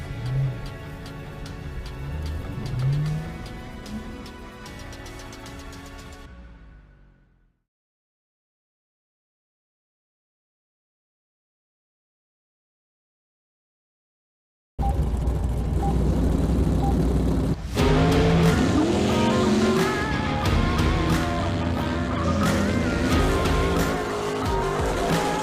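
A Ford Ranger racing at a drift event: a loud engine roar with tire noise, cut by a long stretch of silence, then returning as a strong, steady, close roar that shifts pitch partway through.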